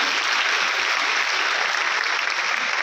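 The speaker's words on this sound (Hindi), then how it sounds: "तालियों की करतल ध्वनि पूरी टीम" A hall audience at a charitable trust's student felicitation event marking Atal Bihari Vajpayee's 100th birth anniversary gives the whole team a full, steady round of applause that stays loud and even throughout, with no speech over it.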